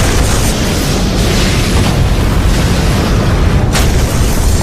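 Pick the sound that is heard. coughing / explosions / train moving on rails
explosions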